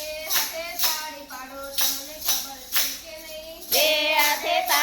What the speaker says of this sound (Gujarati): બે હાથે તાળી પાડો